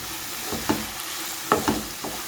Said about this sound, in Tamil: தேங்காய், பச்சை மிளகாய், அப்புறம் ஜீரகம் இதை சேர்த்து நல்லா மிக்ஸ் பண்ணிக்கோங்க.